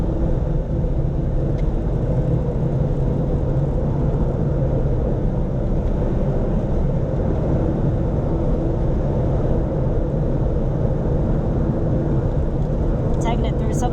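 A Fiat 500 Abarth drives through corners, its engine a steady loud rumble heard from inside the cabin while someone talks over it.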